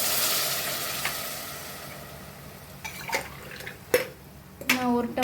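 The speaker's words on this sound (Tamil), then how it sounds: "தண்ணி அளந்து ஊற்றிக்கலாம்." Water pours and splashes into a pot of vegetable pulao in short bursts, with faint clinks of a vessel, after a steady background hiss.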